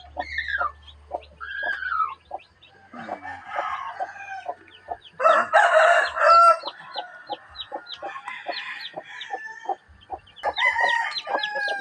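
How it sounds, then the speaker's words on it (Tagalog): Two small chicks being set down in a backyard poultry enclosure, with loud rooster crowing and hens clucking close by, their curved calls and sharp peeps overlapping almost without pause. "Ito na guys yung dalawang sisiw."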